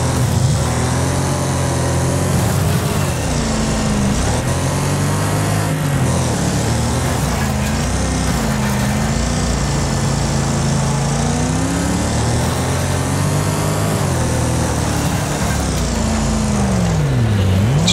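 Racing car engine held at full throttle in the demolition derby game Wreckfest, a loud continuous droning roar with pitch rising and dipping through gear changes, steady for the whole stretch with no talk.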